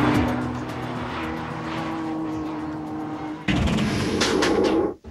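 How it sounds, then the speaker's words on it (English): Renault Clio V6 Trophy race car on the Misano circuit, its engine roaring loudly and steadily nearby, with a sudden jump in intensity midway as it passes close before the sound cuts off. "I'm a driver in the Clio Trophy V6 you see behind you"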